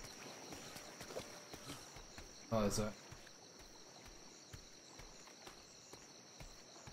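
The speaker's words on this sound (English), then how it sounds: "There's a horse." Horse hooves clip-clopping in the game Atlas, a quiet, regular run of soft hoof taps over a constant insect-like hum, with a man's short spoken remark midway.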